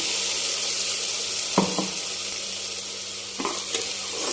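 Tomato puree sizzles steadily in a hot frying pan with onions, a constant hiss broken twice by brief scraping clatters of stirring.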